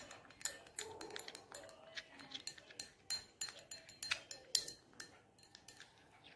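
A spoon clinks rapidly against a bowl while stirring milk into a homemade hair removal paste, producing a quick, irregular run of light metallic taps, close and fairly faint.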